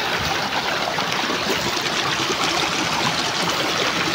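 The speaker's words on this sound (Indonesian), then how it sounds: "gemericik air di persawahan yang sangat nikmat ya, terdengarnya yang sangat sejuk, memanjakan telinga kita" Water trickling and babbling through irrigation channels in rural rice fields, a steady, continuous broadband rush with no pauses, fairly close and moderately loud, with no voices.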